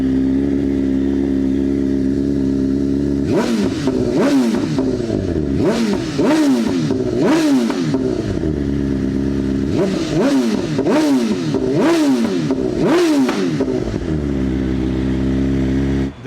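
A superbike with a performance exhaust idles, then revs sharply several times in quick bursts, loud and close, with deep exhaust rumble between each blip.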